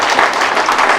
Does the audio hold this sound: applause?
yes